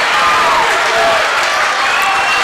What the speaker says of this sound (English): That gets his Maysville crowd fired up.